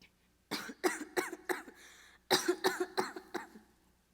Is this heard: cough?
yes